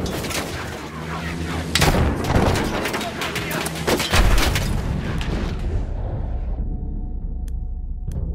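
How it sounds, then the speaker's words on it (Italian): Dense, rapid bursts of heavy gunfire and booming anti-aircraft cannon shots ring out continuously, loud and close, with a few sharper blasts standing out before the barrage thins. "Cannoni antiaerei, là!"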